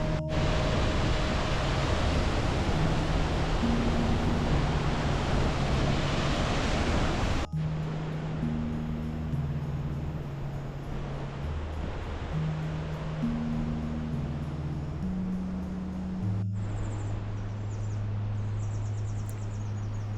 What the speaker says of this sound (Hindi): बहुत ही तगड़ा झरना है।